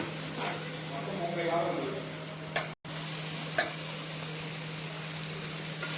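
Ginger-garlic paste fries in hot oil for a fish curry, giving a steady, close sizzle and hiss broken by a couple of sharp clicks from stirring, while a voice talks quietly.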